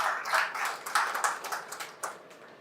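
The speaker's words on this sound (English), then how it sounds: "Let's have a huge round of applause for him" Audience applause rings out at a business conclave inauguration ceremony, a steady burst of clapping from a crowd that swells early and then gradually thins and fades toward the end.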